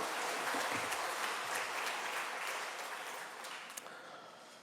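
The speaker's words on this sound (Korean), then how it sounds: "영광의 박수 한번 돌리" Church congregation applauding at a worship service, a full, even burst of many hands clapping that slowly fades toward the end.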